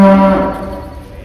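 A dairy cow in a heifer shed on a dairy farm gives a single loud, low moo that fades within about a second.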